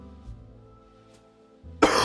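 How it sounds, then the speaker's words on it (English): A single short throat-clearing cough sounds close to the microphone at the end, preceded by quiet background music. "cough."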